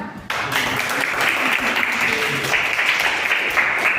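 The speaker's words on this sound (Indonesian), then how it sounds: "Tepuk tangan." Classroom applause from a group of students breaks out sharply and holds as a steady, dense clatter of clapping, with a few voices mixed in.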